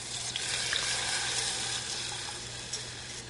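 Milk poured into two tablespoons of browned butter in a saucepan, giving a steady, close sizzle and watery hiss that runs unbroken for the whole stretch, with no talking.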